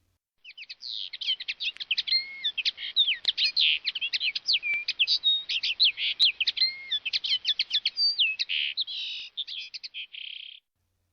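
A linnet sings at a window, a fast, continuous run of bright chirps and twittering trills lasting around ten seconds, heard close and alone against silence.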